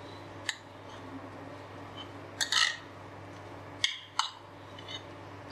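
A spoon clinks and scrapes against a bowl while mixing potato kabab mixture, several sharp metallic taps spaced irregularly over a quiet kitchen hum.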